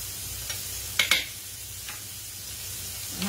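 Cube steaks frying in a pan, a steady soft sizzle with a couple of brief clinks and scrapes of utensils near the start, close up and without talk.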